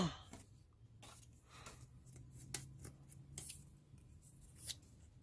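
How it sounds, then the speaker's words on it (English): Quiet, close scissors snip and slice through paper in short irregular cuts while a strip is cut for a star Christmas ornament. "So I'm going to cut a strip."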